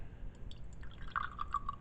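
Solution poured into a bottle to dissolve powder stuck at the bottom, heard as soft liquid dripping and filling, quiet and brief, with a rising bubbly trickle near its end.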